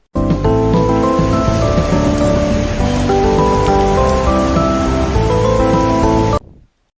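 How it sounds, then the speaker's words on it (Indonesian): Light drizzling rain plays as a steady, dense hiss with fine patter, loud and continuous for about six seconds before cutting off abruptly. "ada sora hujan rintik-rintik"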